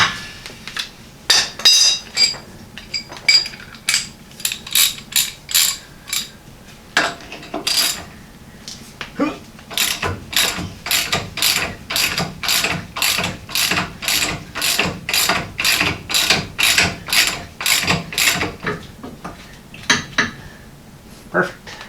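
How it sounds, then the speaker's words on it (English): A ratchet on a breaker bar clicks through loosening a rusty shackle bolt on a Jeep Wrangler YJ, loud close bursts of rapid clicking, sparse at first and then a long, steady run of regular strokes. "Get my breaker bar in."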